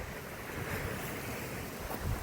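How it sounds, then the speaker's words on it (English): Wind gusts blow steadily outdoors at night, making a broad, rushing hiss with low buffeting rumbles against the microphone. "And it's windy tonight"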